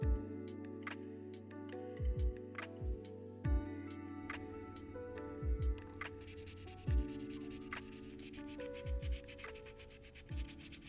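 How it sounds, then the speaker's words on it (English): An 80-grit hand file rasps over polygel nails in short, close scratchy strokes. Faint tonal tones sound in the background. "I do like to reinforce the almond shape with a hand file, preferably an 80/80 grit."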